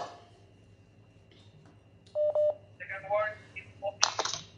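A telephone keypad sends a short run of dialing tones, a couple of distinct beeps, followed by a voice answering and other faint voices, fairly close and quiet overall.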